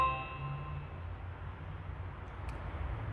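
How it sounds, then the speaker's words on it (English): A Ring Peephole doorbell plays a single bright chime that rings out clearly at the start and then decays into quiet background hiss, with a faint brief tap near the end. "that's how it sounds like when someone's ringing."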